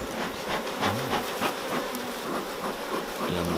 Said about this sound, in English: There's certainly plenty of bees in there, Keith.